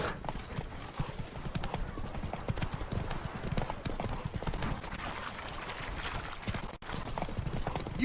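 Horse galloping in the video game The Witcher 3, rapid rhythmic hoofbeats clopping steadily and close for the whole stretch, with faint game ambience and a brief dropout near the end.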